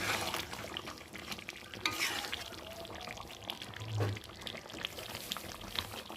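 Chicken frying in a pan with meat masala and a pinch of sugar is stirred, giving a faint steady sizzle with soft scraping strokes throughout and no talking.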